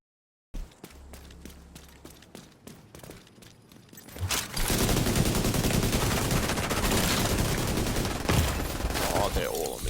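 MK16 assault rifle gunfire in the Division 2 shooter game: scattered single shots at first, then a sustained loud rapid automatic burst with other gunfire layered in, close and continuous for several seconds.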